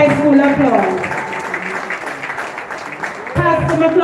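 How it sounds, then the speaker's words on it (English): Students in a Green Island High School assembly applaud a speaker, a dense wash of clapping that swells, eases off in the middle and returns, heard together with a speaking voice. "Let me hear you give up a round of Green Island High School applause"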